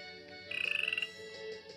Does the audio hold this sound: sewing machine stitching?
no